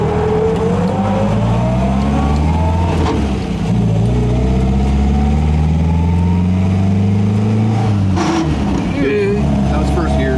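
An MGA sports car's engine pulls hard in first gear, loud and close, its pitch climbing steadily over several seconds. A brief drop and a gear change follow before it accelerates again.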